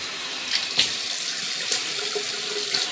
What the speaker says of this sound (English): So, let me rinse off my face here.